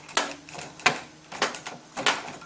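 A car door lock is worked with a key that has just been rekeyed to match the ignition key, giving four crisp mechanical clicks and clunks spaced roughly half a second apart, up close.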